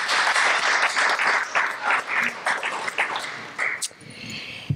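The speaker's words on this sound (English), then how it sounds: "please give a round of applause for our inductees of the class of" An audience applauds at a Barristers Golden Circle brunch honoring inductees, a dense burst of clapping that thins into scattered claps and fades out toward the end.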